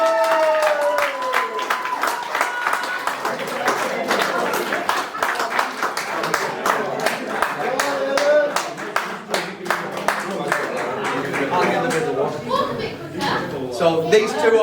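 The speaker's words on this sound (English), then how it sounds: "can we have a nice big cheer for Aidan" At an end-of-season presentation, a crowd breaks into sustained clapping and cheering for a young player named Aidan, with dense rhythmic hand claps and voices mixed in throughout.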